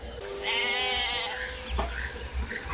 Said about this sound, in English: The sacrificial goat.